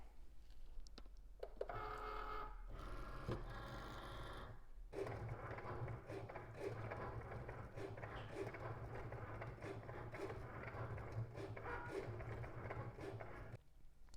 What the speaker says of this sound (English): Once you have your mat ready, you're ready to load it into your Cricut.